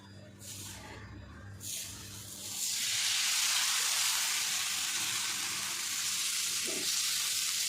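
Loud, steady sizzling hiss of dhapate flatbread dough frying on a hot griddle, swelling up after a few quieter seconds and continuing strongly to the end.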